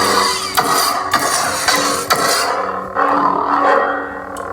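A loud, sustained roaring electronic hum with sharp swooshing surges and clashes from a Starkiller-style lightsaber hilt, blade humming and swinging, no talking.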